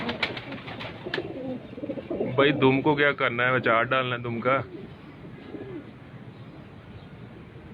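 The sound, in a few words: pigeons cooing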